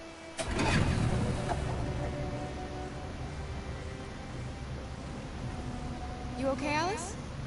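A boat engine in Detroit: Become Human starts with a sudden roar, then settles into a steady, low, droning hum; brief voices rise near the end.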